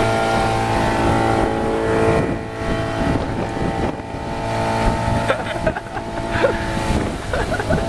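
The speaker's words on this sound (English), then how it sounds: "we were boating majestically into the deep blue" Motorboat cruising out to sea, a loud steady engine drone mixed with rushing water and wind buffeting the microphone, close and continuous with thumps of the hull.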